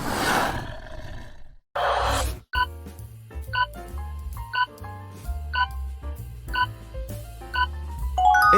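A tiger gives a gruff, rumbling roar, then a second shorter one. Bouncy, cheerful music follows right after.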